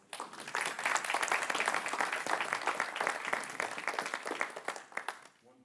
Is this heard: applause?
yes